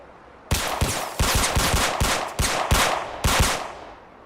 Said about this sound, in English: is this motherfucker shooting me?